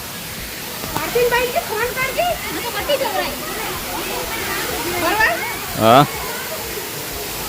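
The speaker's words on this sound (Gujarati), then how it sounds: "હા જો ઝરણું પડે છે હવે" A monsoon-season waterfall at Ranituk, with its flow now reduced, makes a steady broadband rush in the background while people talk loudly close by.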